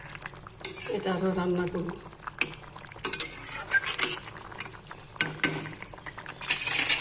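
Fish roe curry stirred in a pan, with scraping and clinking of a utensil against metal over a faint sizzle, close by, while someone speaks briefly in between.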